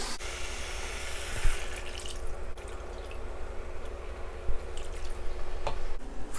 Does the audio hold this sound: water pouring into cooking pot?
yes